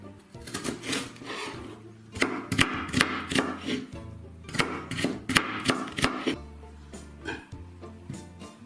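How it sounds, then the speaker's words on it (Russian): A knife chops onion and carrot into medium cubes on a board, with quick irregular bursts of sharp cutting taps close by, pausing briefly between runs. "Лук, морковь нарезаю средними кубиками."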